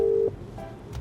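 A telephone gives a short steady electronic tone lasting a fraction of a second, then cuts off into faint room noise, in a kitchen where pork mince and fries are being cooked.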